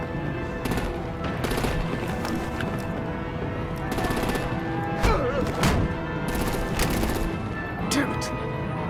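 Dense gunfire and heavy artillery blasts in a Batman video game, rapid automatic bursts and thuds layered with loud explosions, continuous and close, with voices shouting in the mix.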